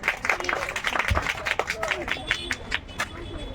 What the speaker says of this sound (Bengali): জোরদার হাততালি